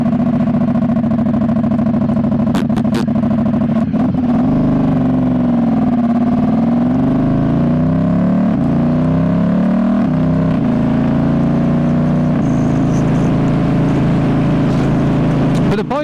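A 2019 Ducati Diavel S with a full termignoni exhaust, ridden steadily with a continuous loud engine drone that shifts pitch gently as the revs rise and fall, with wind noise throughout.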